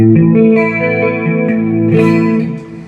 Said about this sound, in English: So the clean has a chorus and a compressor, reverb, and delay.